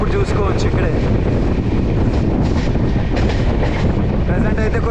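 The 12714 Satavahana Superfast Intercity Express with LHB coaches runs below its 130 km/h limit, giving a loud, continuous broadband rumble and rattle of rolling stock heard close up.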